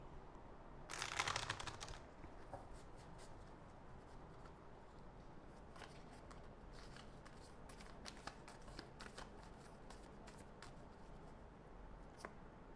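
Tarot cards being shuffled for an advice reading: a brief burst of quick, crisp card riffling near the start, then soft intermittent card handling and light ticks over a quiet room.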